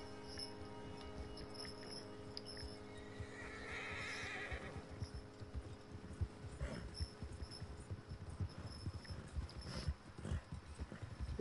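Horses in Red Dead Redemption 2 whinny and clop along in a snowy setting, a steady hoofbeat rhythm with a neigh rising midway over continuous game ambience.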